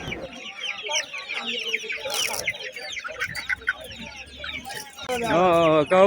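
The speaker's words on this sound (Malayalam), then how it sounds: "നമ്മുടെ കൽപ്പകഞ്ചേരി ചന്തയിൽ ഇഷ്ടം പോലെ നാടൻ കോഴികൾ എത്തിയിട്ടുണ്ട്" Native country chickens cluck and squawk in a busy poultry market at Kalpakanchery, several birds calling at close range in overlapping bursts, with a louder run of clucking near the end.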